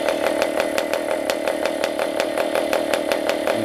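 A PAW compression-ignition diesel model engine running on a kerosene and oil fuel mix, a loud, close, rapid buzzing drone with a steady rhythmic pulse throughout, no voices.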